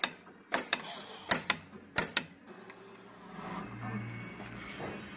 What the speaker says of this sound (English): The tensioner in action there.